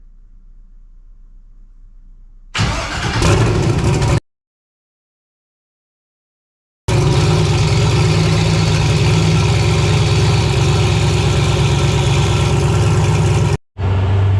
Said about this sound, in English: So this thing's really friggin' loud.